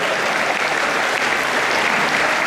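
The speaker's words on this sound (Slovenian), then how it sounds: "Dajmo še en aplavz, nimate drugega dela." Live audience applauding a children's accordion orchestra in concert, a dense, steady wash of many hands clapping loudly and continuously from start to end.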